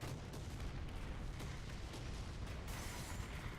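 Artillery fire in War Thunder during a tank battle with Panzer tanks. Booms and gunfire rumble continuously under a dense, noisy battlefield roar, with a sharper blast near the end.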